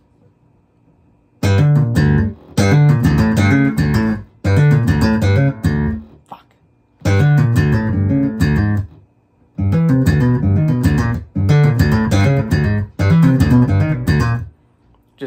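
Electric guitar riff playing a major third then dropping a half step, mixed with open-string notes, in loud repeated bursts separated by brief pauses; one short spoken word.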